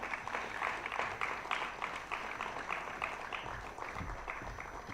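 An audience at a national financial literacy quiz claps for a college quiz team, the applause a dense, sustained patter that stays fairly even for about five seconds before tapering slightly.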